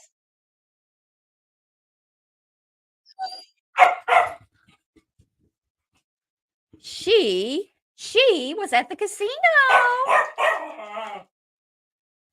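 Puppies bark and yip in two bursts, a few sharp barks first, then a longer run of higher, wavering yelps and whines, with a person speaking between them.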